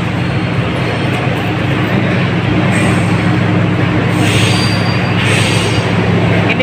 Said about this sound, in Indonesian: Itu lihat kereta apinya panjang.